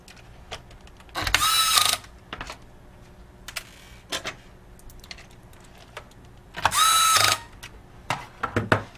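Mounting screws are driven back into a laptop during repair: two short whirring bursts from a small driver with ratcheting clicks, plus scattered light taps and handling noises between them, close and fairly loud, with no speech.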